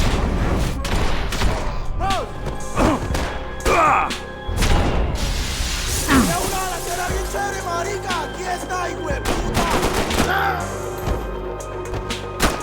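Heavy gunfire in a Max Payne 3 shootout, with dense bursts and crashing impacts spread across the scene and voices shouting under the shots.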